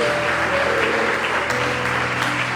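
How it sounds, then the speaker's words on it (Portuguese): A church congregation applauds during a worship service, a steady wash of dense clapping filling the space throughout, with faint murmuring voices underneath. "Dá um aplauso ao Senhor."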